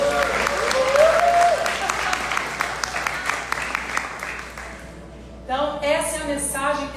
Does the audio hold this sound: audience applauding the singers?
yes